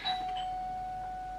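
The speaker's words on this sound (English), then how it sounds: "there goes my doorbell." A household doorbell gives a single electronic chime, a clear tone that rings on and sustains evenly to the end in a quiet room.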